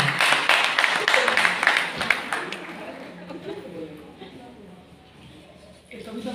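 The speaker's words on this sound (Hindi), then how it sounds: "तालियां थोड़ी सी जोर से बजा दीजिए मेरे सामने" An audience at an International Women's Day event claps for about two seconds, the applause then fading into quiet room noise with faint voices.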